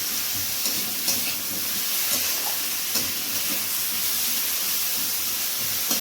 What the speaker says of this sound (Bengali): হালকা করে ভেজে নিতে হবে